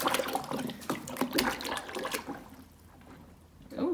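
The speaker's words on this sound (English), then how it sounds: "God, she's really having a drink." A horse drinks warm water from a bucket in a winter stable, with wet slurping and sloshing that is loudest at first and then fades to quieter lapping, plus faint voices nearby.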